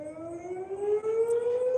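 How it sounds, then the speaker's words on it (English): A siren wails with a steady tone that slowly rises in pitch, sounding continuous and moderately distant with no voices over it. "There's a siren."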